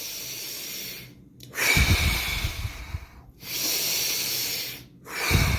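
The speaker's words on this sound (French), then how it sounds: "j'inspire fort" Strong, deliberate breaths in and out, close and loud, as part of a breathing exercise. Long hissing inhalations and exhalations alternate in a slow, steady rhythm with brief silent gaps between them.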